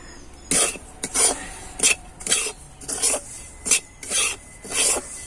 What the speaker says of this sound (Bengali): এবার আমি সমস্তটা মিশিয়ে নেব।